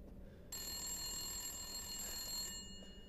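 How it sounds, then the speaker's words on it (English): A telephone rings in the video game Resident Evil Village, a continuous electronic bell tone that starts suddenly, runs steadily for about two seconds and then cuts off, faint against quiet game ambience. "A phone ringing?"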